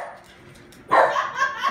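A dog gives one loud close bark after a quiet moment, followed by a brief yelping tail.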